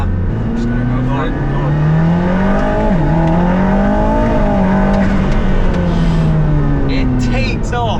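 Hypercar engine rising in pitch as it accelerates hard away in St-Tropez, a loud continuous climbing drone with harmonics sweeping upward, dipping briefly then climbing again, while people talk excitedly over it.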